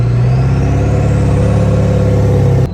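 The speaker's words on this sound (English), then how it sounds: "It's got a real nice rumble to it. It sounds like a real diesel truck." A 7.3L Powerstroke diesel truck engine, fitted with new injector cups and 180/30 FFD injectors, rumbles in a deep, steady drone close by before cutting off abruptly near the end.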